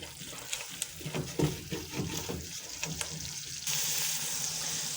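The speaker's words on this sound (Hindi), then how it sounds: "आँच तेज़ करके इसको मज़ीद हम भूनेंगे।" Minced meat with peas and yogurt fries in a hot pan over high heat, giving a continuous close sizzle with stirring scrapes that turns into a steadier, brighter hiss partway through.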